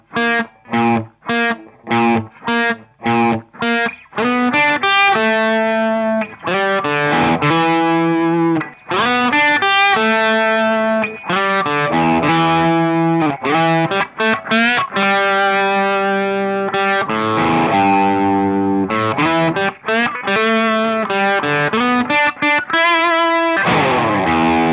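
Electric guitar playing the intro, opening with a run of sharp, evenly spaced distorted stabs, then loud sustained gritty chords and bends that carry on alone without a break.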